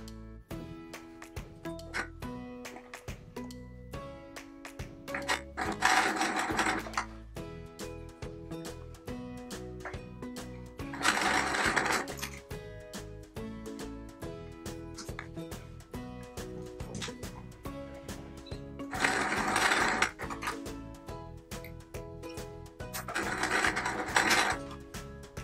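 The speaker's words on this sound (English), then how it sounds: "I'm going to be sewing the B templates on either side of our central" A sewing machine stitches quilt patchwork templates in a steady mechanical whir of needle and gears, punctuated by brief louder bursts every few seconds, close by with no voices.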